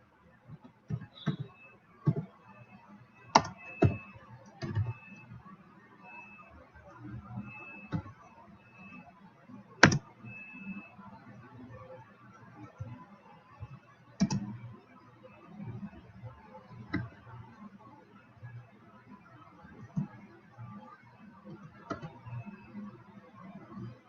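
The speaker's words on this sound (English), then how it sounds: "let's type in Texas sues" A computer keyboard is typed on in short, scattered bursts of light tapping, with a few sharper key strikes standing out, heard close and quiet against a faint steady background hum.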